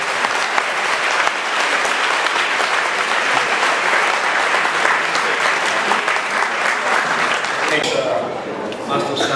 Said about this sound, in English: You may applaud yourself.